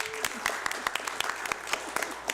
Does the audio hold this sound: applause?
yes